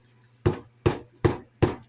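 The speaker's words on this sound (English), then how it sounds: "we're just going to beat it a couple of times" Steak meat pounded on a kitchen counter to tenderize it gives four sharp, evenly spaced thuds about half a second apart, close and loud, with no talking.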